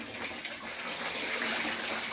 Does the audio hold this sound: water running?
yes